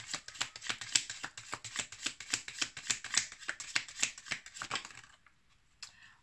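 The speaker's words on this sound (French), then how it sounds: "on va maintenant prendre une carte de l'oracle des amoureux." Oracle cards being shuffled by hand, a rapid rhythmic run of crisp riffling bursts close to the listener that stops abruptly, followed by a near silence and a single soft tap.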